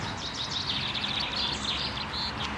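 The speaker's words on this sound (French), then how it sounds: "Là, on entend le pinson qui était juste au-dessus de nous, et puis la fauvette à tête noire qui est quelque part par là." A common chaffinch and a Eurasian blackcap sing in Buttes-Chaumont park in Paris, their bright, repeated trilling phrases fairly close over a low, steady background hum.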